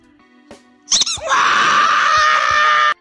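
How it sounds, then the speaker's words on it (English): Cartoon Mickey Mouse screams in terror, a few sharp squeaky yelps rising into one long, loud, shrill sustained shriek that cuts off abruptly, preceded by a brief quiet stretch. "it's supposed to be Mickey Mouse, a character so innocent and dear to our heart, screaming in terror"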